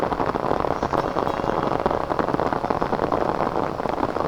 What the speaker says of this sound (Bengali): যেই বৃষ্টি আরম্ভ হয়েছে তখন তারা ছুটতে চলে আসছে।